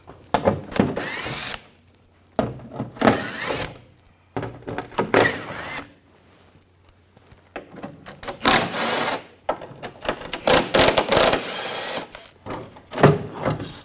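An 8mm socket on a ratchet loosens the shield bolts under a 2007-2013 BMW X5 3.0L, in several close bursts of rapid clicking and rattling separated by pauses.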